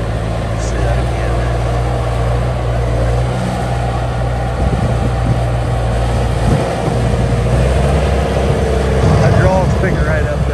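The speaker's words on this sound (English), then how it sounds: "Big powerful skid loader, guys. Starts up, runs strong." 2004 Bobcat S250 skid loader engine running steadily with a loud, constant diesel drone close by, while someone talks over it throughout.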